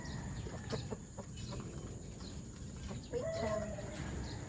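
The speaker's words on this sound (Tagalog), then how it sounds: "Si Macho Guapito, isa sa pinakamatagal ko ng manok" Faint chicken sounds in a quiet yard, a few soft clucks and one short call standing out over low background noise.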